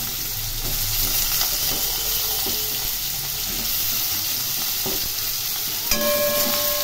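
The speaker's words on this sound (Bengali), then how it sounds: "এর মধ্যে টুকরো করে কেটে রাখা আলু দিয়ে দিলাম।" Cut potatoes fry in hot oil with fenugreek, nigella and fennel seeds, making a dense, continuous sizzle up close, broken near the end by a sharp utensil clink.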